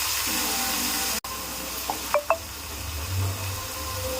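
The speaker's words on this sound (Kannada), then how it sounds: "ಅರಿಶಿನ ಪುಡಿ, ಸೊಪ್ಪು ಹಾಕಿ ರೋಸ್ಟ್ ಮಾಡಿ ಬೇಯಿಸಕ್ಕಿಡಬೇಕು" Turmeric powder and greens roast in a pan with a continuous sizzling hiss, a brief cutout, a few scraping clinks of stirring, and a low rumble toward the end.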